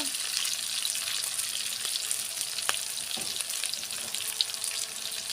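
Onion with a little slit green chilli frying in hot oil, a dense continuous hiss of sizzling with occasional soft stirring knocks, close and even in level.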